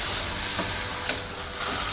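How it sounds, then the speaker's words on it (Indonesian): Water or broth simmering with chayote and carrots in a pot, a steady bubbling sizzle with soft gurgles, close and moderately loud, no voices. "ini air atau kuah sudah mendidih ya teman-teman"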